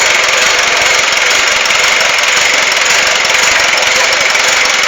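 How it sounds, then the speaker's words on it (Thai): An engine runs loud and close, with a steady, even roar that holds for the whole stretch and shows no clear revving. "เครื่องดีเครื่องแน่น เครื่องดีเครื่องแน่น เครื่องชัว"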